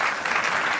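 Crowd at a stand-up comedy crowdwork show breaks into loud applause, a dense burst of clapping that stays strong for under a second, close and unbroken.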